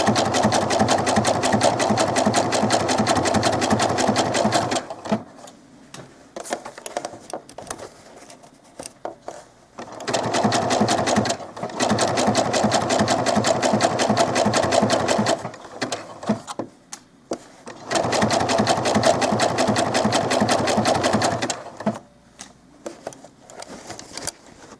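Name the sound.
sewing machine sewing a sleeve into doll clothes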